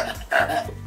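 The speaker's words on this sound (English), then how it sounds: "I also burp a lot." A single short human burp, close and fairly loud, lasting under a second with no talk over it.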